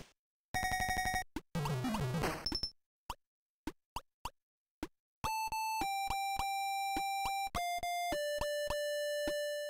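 Beepy electronic game jingles and blips from a Neo Geo Pocket: a buzzy tone burst, a warbling sweep, a run of short clicks, then a stepping melody of pure tones.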